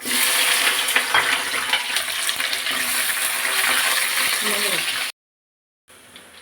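Onion sizzles in a hot pan with cinnamon, a steady loud frying hiss with crackles that cuts out abruptly and then resumes quietly.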